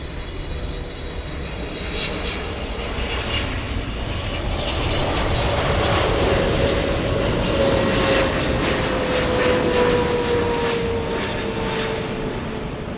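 Steady, loud roar of Boeing 777 jet airliner engines at LAX airport, swelling gradually as the aircraft passes and holding at a constant wash with no talk.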